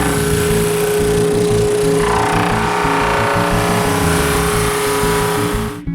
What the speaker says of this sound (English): The sides are sanded with the drum sander.